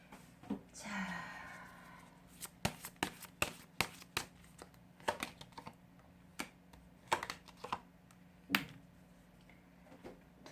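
Tarot cards being shuffled and drawn for a love reading, with a brief riffle of cards followed by a series of sharp, close card snaps and taps spaced irregularly, and a voice speaking briefly at the start.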